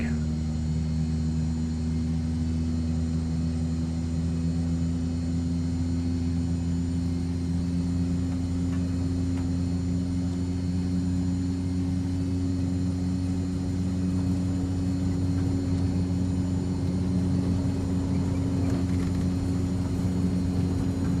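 A Cessna C208 turboprop in the X-Plane flight simulator taxis on a runway, its engine giving a steady, close droning hum that holds unchanged throughout with no talking over it.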